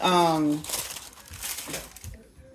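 Crinkling, rustling paper handling up close, following a brief voice at the start, with crackly bursts continuing over a couple of seconds.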